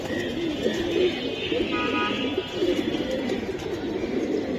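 Pigeons at a busy pigeon market coo in low, soft, repeated bursts, steady throughout amid crowd murmur and background chatter.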